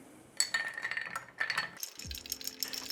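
Ice clinks and rattles against a glass as a whisky cocktail is stirred with a bar spoon, giving quiet, close, irregular chiming taps that pause briefly and then resume.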